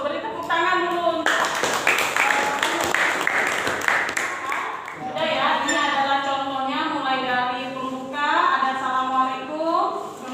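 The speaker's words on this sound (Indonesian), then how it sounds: "Beri tepuk tangan dulu." A class gives a round of applause, a burst of clapping that starts suddenly and fades after a few seconds, then gives way to a teacher speaking.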